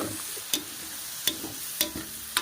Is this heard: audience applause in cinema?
no